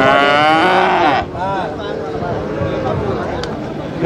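Kangeyam cattle lowing at a busy cattle market in Manapparai, with one long close moo followed by further mooing under the murmur of nearby voices.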